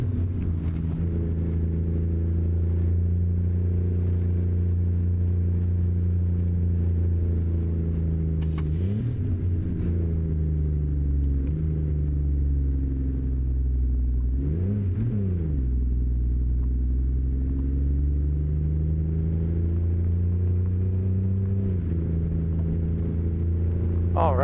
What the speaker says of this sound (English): Now it's going to get steep here, so I'm going to go down a gear here right away.